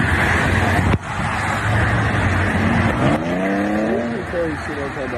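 Cars roll past on an interstate in a steady, loud roadway wash with a brief tire-squeal or skid, while voices talk over the traffic throughout.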